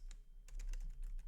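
Quick keystrokes on a computer keyboard, a run of irregular close-up clicks and taps of moderate loudness with no speech over them.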